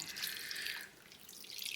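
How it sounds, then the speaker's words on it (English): Small splash of water poured into a slow cooker over food, a brief, faint trickling pour heard up close. "I'm just going to add a tiny bit of water because there's a few just poking out"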